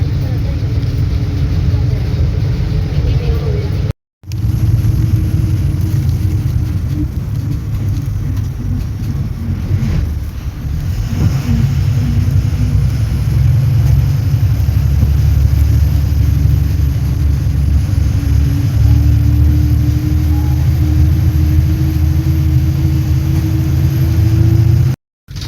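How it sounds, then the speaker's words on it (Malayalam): A bus climbing toward Perumal Malai near Kodaikanal, its engine a constant deep rumble and droning hum that rises in pitch gradually, cabin rattle layered on top, with a brief dropout early and at the end. "നമ്മളങ്ങനെ ബസ്സിനകത്ത് കയറിയിരിക്കുകയാണ്"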